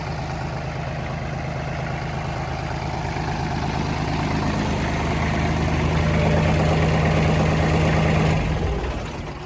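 A small Japanese Kubota GL-221 mini tractor engine idles steadily and close by, a continuous low rumble with a knocking texture that swells slightly before cutting off near the end.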